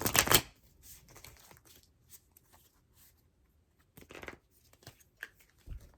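Quiet, brisk riffles of playing cards being shuffled, a short burst at the start and another a few seconds later, with soft handling noises between.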